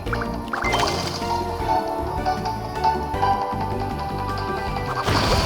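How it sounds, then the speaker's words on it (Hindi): A bomb goes off in the Fishdom match-three puzzle game: crashing, splashy cartoon blast effects over continuous bubbly game music, with a fresh burst near the end. "हमें बॉम्ब मिला, इसको फोड़ देते हैं।"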